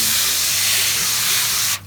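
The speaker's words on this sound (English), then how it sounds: "spray that down real good and get that wet" A loud, steady spray hisses continuously for almost two seconds as liquid is sprayed onto smoked pork, then cuts off abruptly, leaving faint background noise.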